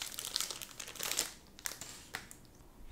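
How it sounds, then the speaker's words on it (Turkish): A Pokemon card booster pack's plastic wrapper is torn and crinkled up close in several irregular bursts of sharp crackling, quieter gaps between them and a final rustle at the end. "Bu son paketimizi de açalım"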